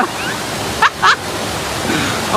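A waterfall rushes in a loud, constant broadband roar, close by, with a couple of brief voices cutting through it.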